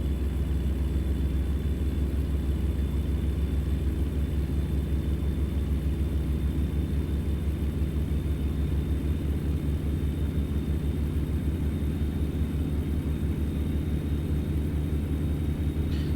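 Heavy haul truck engine in American Truck Simulator labouring up a small hill, a steady low droning rumble that holds constant throughout with no voices.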